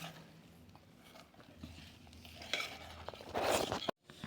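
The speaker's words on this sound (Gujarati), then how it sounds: "લોટને આ રીતે અંદર એડ કરીને આપણે હલાવતા જઈશું, જેથી કરીને લોટમાં કણિયો ના પડે" Wheat flour being stirred into a sweet pudla batter, a soft continuous swishing and scraping in a bowl that builds toward a louder wet churning near the end, with no talking.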